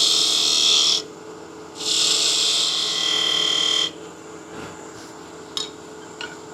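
A wood lathe cuts a cove into a spinning salt and pepper mill blank, giving two loud, sustained hissing scrapes separated by a pause, then quieter handling noises and a couple of light taps.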